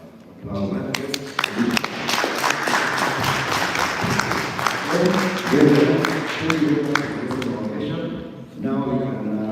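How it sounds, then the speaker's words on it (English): An audience at a student model project presentation event claps in scattered bursts, while voices and crowd chatter continue over and between the applause. "I think we need to give a big round of applause."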